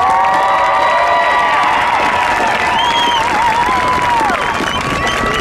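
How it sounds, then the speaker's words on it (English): A family-night band program audience bursts into loud applause and cheering for the band instructors, with a dense clapping crowd, shrill whistles and excited whoops, including children's voices, ringing out close and strong throughout. "So give them a big round of applause, please."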